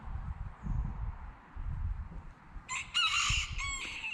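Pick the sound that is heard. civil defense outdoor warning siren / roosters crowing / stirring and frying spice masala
roosters crowing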